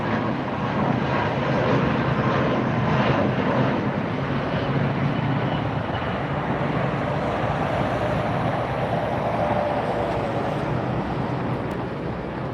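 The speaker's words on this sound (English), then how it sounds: "this is the Norse that just landed, taxiing now" A Norse airliner taxiing after landing at LAX, a steady, broad jet engine roar heard from outside at some distance, continuous and fairly loud with no talk.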